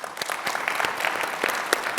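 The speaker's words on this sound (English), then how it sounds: "Give him a round of applause, please." An audience at a maritime security conference gives a round of applause, a steady, fairly close patter of many hands clapping, with no voices over it.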